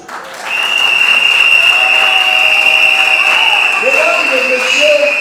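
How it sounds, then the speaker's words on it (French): Wedding guests break into sustained, loud applause that swells and continues throughout, with steady high-pitched tones and a few voices rising over the clapping near the end. "Applaudissez pour eux."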